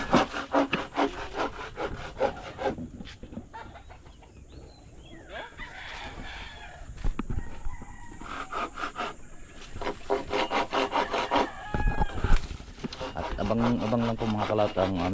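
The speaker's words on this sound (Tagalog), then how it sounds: "Nag-umpisa ng lagari." Hand saw cutting wood at an outdoor rural building site in hot weather, a rough rhythmic rasp of repeated strokes heard fairly close, mixed with talk and a rooster crowing in the background.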